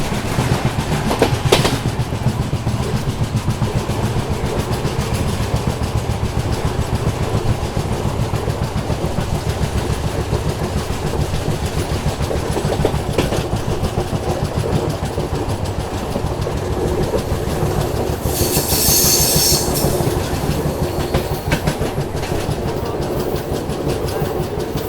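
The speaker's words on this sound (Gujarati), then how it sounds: "આ રહી છે આપણી આપા દુરંતો. ભાઈ એક નંબર ટ્રેન છે ભાઈ" Duronto express train running past on double-line track under electric poles, a steady loud rumble and rolling clatter of wagons throughout, with a brief high hiss or squeal near the end.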